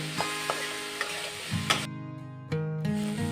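Potatoes and taro with turmeric frying over high heat, sizzling in the pan while a utensil stirs and knocks against it in a few sharp, close clanks.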